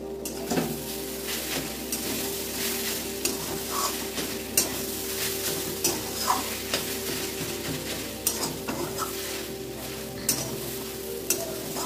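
Carrot halwa being stirred in a pan: a steady, close sizzle with repeated scraping strokes and light clinks of a spoon against the metal, kept up for the whole stretch with no talking.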